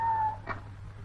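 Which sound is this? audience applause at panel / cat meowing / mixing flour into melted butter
cat meowing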